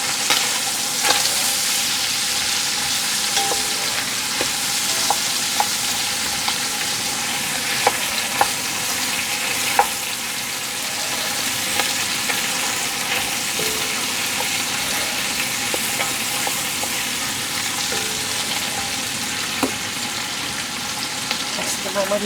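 Sweet cabbage with smoked meat fries steadily in a pan, a dense continuous sizzle broken by occasional scraping clicks of stirring, close and alone without voices.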